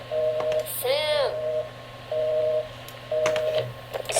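Telephone tones from the video game Gone Home: repeated steady beeps in short even bursts, broken by a brief warbling chirp, over a faint hum, with a voice speaking softly at times.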